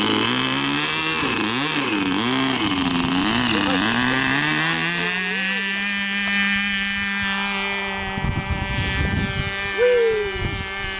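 A small glow-fuel engine on a Senorita radio-controlled model airplane drones steadily with a strong harmonic whine, its pitch wavering up and down as it flies, then holding level while people talk near the end.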